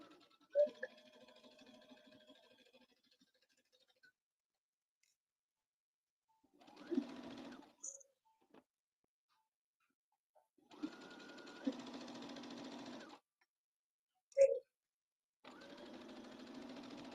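A sewing machine stitches a bomber jacket in short, close bursts of fast whirring, separated by quiet pauses and small clicks as the fabric is repositioned.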